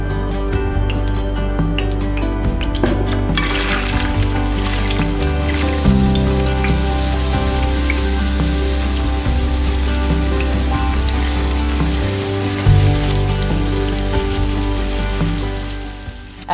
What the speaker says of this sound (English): In a modest amount of olive oil, start by sautéing your onions.